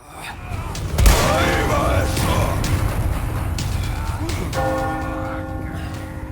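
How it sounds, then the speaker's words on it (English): A church bell rings loudly in the Resident Evil 4 Remake village sequence, one strong struck tone followed by a sustained, ringing resonance layered over gunfire-like bursts and dense game sound. "shoot the bell which eventually rings regardless to signal the end of the sequence"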